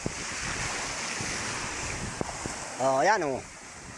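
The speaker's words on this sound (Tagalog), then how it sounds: "Talagang malalaki ang alon eh." Large sea waves stirred up by typhoon Opong surge and roar with heavy wind noise, close by. Someone speaks briefly near the end.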